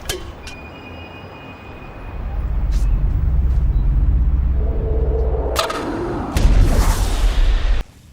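A Rocket League car drives with a steady engine rumble, then front-flips into the ball with a loud hit and boost burst before cutting off abruptly.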